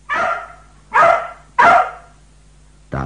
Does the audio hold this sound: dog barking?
yes